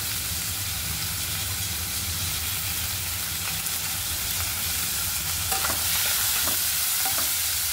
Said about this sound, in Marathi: गुलाबी होईपर्यंत भाजायचा आपल्याला कांदा आणि टमाटर